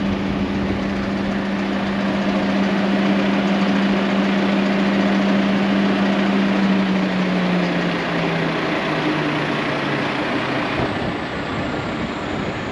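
A loud, steady donkey engine drones continuously at idle, its low hum slowly dropping in pitch near the end, with no voices.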